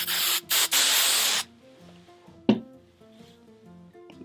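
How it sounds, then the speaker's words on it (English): Three quick hissing bursts of hairspray onto a wig, close and fairly loud, followed by quieter handling sounds and a single sharp tap. "I'm gonna hit it with a little bit of hairspray"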